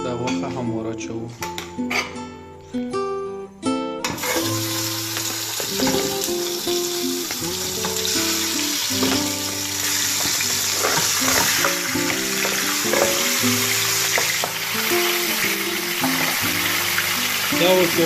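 Meat dropped into hot oil in a pan for Afghani dopiaza, a loud close crackling sizzle that swells after a few seconds and keeps frying steadily, with clattering utensils and a voice talking over it.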